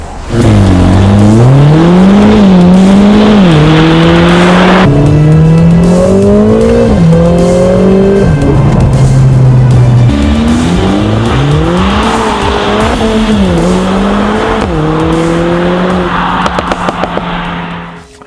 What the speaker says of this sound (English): it does have what's called a loud startup mode